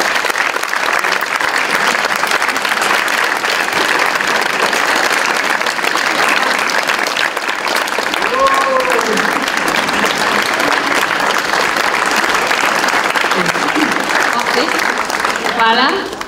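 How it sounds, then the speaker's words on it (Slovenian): Sustained applause from a conference audience for the speakers at a business event's closing session, a thick, even roar of clapping that continues for many seconds, with faint voices and a few whoops breaking through near the end. "Dajmo vsi aplavz za naše predavatelje."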